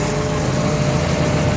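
Iron Duke engine in a Jeep CJ-3B running after a new PCV valve was fitted, a steady, loud, close idle drone with an even low throb and no voices.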